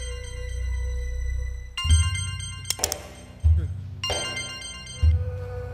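An electronic phone ringtone plays in repeating tonal bursts, interrupted by a few dull thumps and low rumbling nearby.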